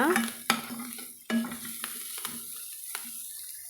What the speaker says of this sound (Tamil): உப்பு சேர்த்துட்டு நல்லா கலந்து விட்டுக்கலாங்க